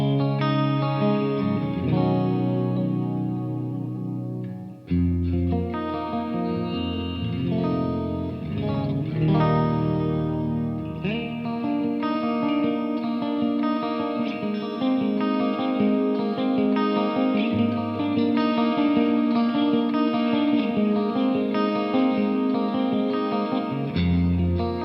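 Electric guitar played on a clean channel through a Line 6 Helix and PRS MT15 amp, strummed chords and picked notes ringing out loud and sustained with chorus-like shimmer and reverb, continuous throughout.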